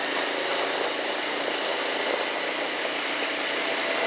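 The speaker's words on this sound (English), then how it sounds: "it sounds pretty decent though for a 450. It's got some low grumbly tone." A CF-Moto 450SS sport motorcycle engine runs steadily with a low, grumbly idle tone, a constant close drone with no talking.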